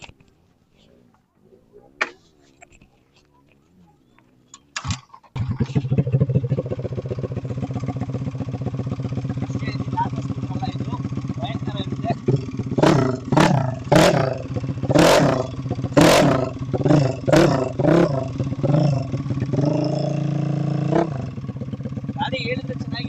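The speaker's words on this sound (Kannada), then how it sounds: "ಒಂದ್ಸಲ ಸ್ಟಾರ್ಟ್ ಮಾಡ್ತೀನಿ. ಗಾಡಿ ಸೌಂಡ್ ಕೇಳಿಸ್ಕೊಳ್ಳಿ" A completely modified race scooter for autocross starts with a sharp catch, settles into a loud, rough idle, then revs hard in a series of rising bursts before easing back, all close to the microphone.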